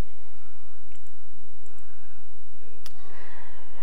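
A computer mouse clicks to download a PDF file: a few faint, sparse clicks over a steady low hum, no voices.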